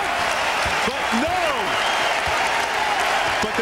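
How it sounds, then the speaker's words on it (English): Crowd at a UConn men's basketball home game against Rutgers, a steady roar of cheering and applause that fills the arena, with a whistle and a commentator's voice cutting in on top. "And the crowd responding as UConn opens up a 14-point lead with 3:20 remaining."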